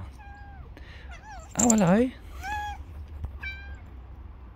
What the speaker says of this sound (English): Yeah, I've got a cat as well.